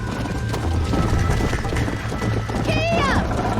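Galloping horse hooves in Red Dead Redemption thud in a steady clip-clop rhythm throughout, joined near the end by a rising whinny, with game voices talking over the riding.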